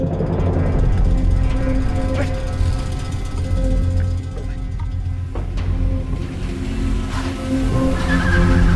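A car pulls away with tires skidding and squealing, loud and continuous engine and road noise filling the whole stretch, with a few voices faintly audible underneath.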